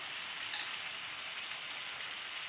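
Small pancakes sizzle steadily in a pan at a children's breakfast, a dense, even hiss of frying oil that runs unbroken and close without any voices.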